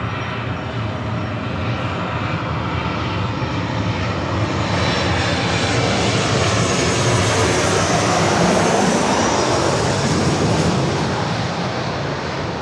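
Jet airliner engines roar steadily at LAX airport, a loud continuous broadband rumble that swells toward the middle as an aircraft passes close by, with no voices over it.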